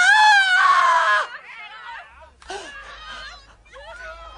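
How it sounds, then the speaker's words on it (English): A woman lets out a loud, high scream while being whipped in a Roman-era drama, then breaks into ragged whimpers and gasping sobs, with a low hum beneath. "You made me scream."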